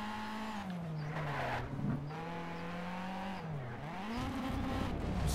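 A race car in Need for Speed Shift 2 Unleashed holds a loud, steady engine drone whose pitch dips and climbs as it shifts and accelerates, with faint tire noise underneath.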